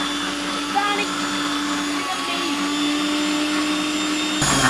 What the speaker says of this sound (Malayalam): നമുക്ക് എന്തായാലും നമ്മുടെ മിക്സിയുടെ ജാർ അങ്ങോട്ട് തുറക്കാം